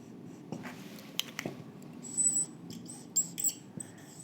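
Pen or marker scratching and tapping while a parallelogram of forces diagram is drawn, with scattered brief strokes and clicks and a few sharper squeaky scrapes, close and fairly quiet, no talking.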